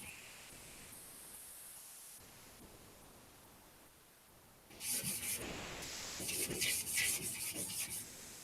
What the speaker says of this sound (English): You can sand until you run out of primer